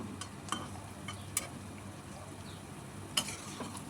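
Banana flower fritters bound with gram flour, onion, green chilli, coriander leaves and turmeric fry in hot oil, a faint steady hiss broken by a few sharp pops and clicks, with no talking.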